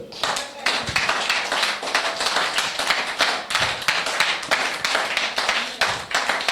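A church congregation claps continuously in praise of the Lord, dense rapid applause under a loud, lively crowd with a voice speaking through it.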